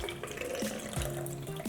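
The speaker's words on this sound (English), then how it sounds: "Now I'm using a funnel so that I can pour the beet juice in there without spilling." Beet juice poured through a funnel into a spray bottle, a close, continuous gurgling stream whose pitch shifts and bubbles as the liquid drains through.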